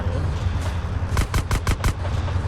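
Gunshots in GTA San Andreas: a rapid burst of about five sharp, loud shots in quick succession over a low rumbling game background, with scattered fainter pops before and after.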